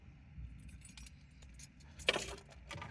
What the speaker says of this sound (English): Right now I just picked up my car keys.